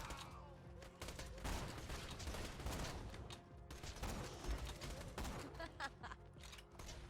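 Dense gunfire from the shooter game Borderlands 2, a steady stream of overlapping shots and bursts close up and loud, with mechanical clatter mixed in and no talk.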